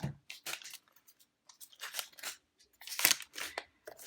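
A Pokémon card booster pack of 20 cards is torn open and handled up close, with sharp crinkly rips and rustles in short separate bursts between quiet pauses.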